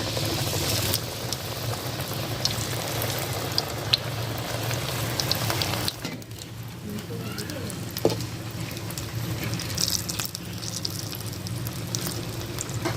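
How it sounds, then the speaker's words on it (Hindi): Vegetable rolls deep-frying one by one in hot ghee in a kadai give a dense, close crackle and sizzle. It quietens briefly partway through, then resumes with a few sharper pops, and no talk is heard. "अब इसको एक एक करके फ्राई कर लेते हैं।"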